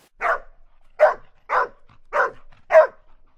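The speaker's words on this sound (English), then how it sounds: "Dogs barking." Five sharp, evenly spaced dog barks ring out close and loud against an otherwise silent background.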